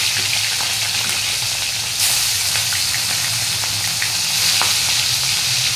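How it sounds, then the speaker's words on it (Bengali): Fish pieces coated in turmeric powder fry in hot oil in a kadai, giving a steady, close, full sizzle with crackling spatters throughout and no voices. "মাছগুলোকে ভাজার জন্য তেলের মধ্যে তুলে দিয়েছি।"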